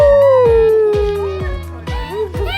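A person imitates a dog howling during an animal-sounds game, with one loud, drawn-out falling howl and then shorter yips and whimpers, all close to the microphone.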